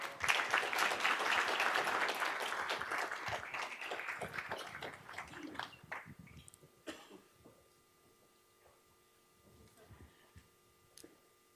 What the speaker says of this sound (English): Let's give her another round of applause, please.